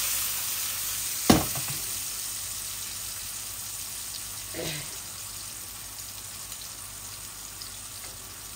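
Pieces of rohu fish fry in oil in a pan on a gas stove, giving a steady, even sizzle with a sharp clatter near the start and a brief scrape later.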